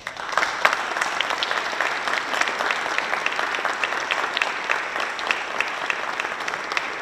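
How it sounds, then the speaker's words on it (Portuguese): Sustained applause from an audience at a municipal honour medal ceremony in Amarante, a steady dense clapping that fills the hall for several seconds with no speech on top. "a quem peço uma grande salva de palmas"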